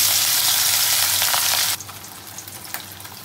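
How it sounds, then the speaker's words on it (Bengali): Hilsa fish frying in hot oil, a loud dense sizzle that drops off sharply partway through to a quieter crackle and pop, close up with no talking. "চলো ইলিশ মাছটা ভাজা হোক এবার"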